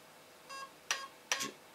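Three short electronic beeps sound in quick succession, close and clear against a quiet background, from a King Kong Burst Wizard Super 2 airsoft gun.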